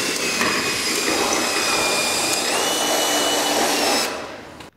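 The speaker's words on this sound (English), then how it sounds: "drill a few holes on the side and add rivet nuts" A drill runs continuously through aluminium sheet end plates, a loud steady whine for about four seconds before cutting off abruptly.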